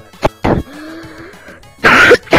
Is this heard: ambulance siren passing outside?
no